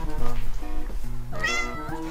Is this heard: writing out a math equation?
no